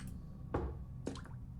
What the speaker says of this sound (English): You knock on the door, you hear water drops in a bucket